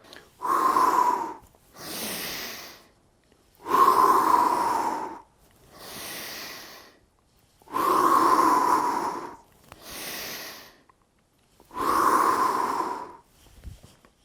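Slow breathing exercise: about four cycles of audible inhale followed by a brief pause and a longer, softer exhale, close to the microphone, with near-silent gaps between breaths.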